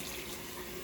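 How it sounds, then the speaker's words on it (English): Tap water runs steadily into a bathroom sink during a nightly skin care routine, a close, even broadband rush with no talking. "Rinse that out really good"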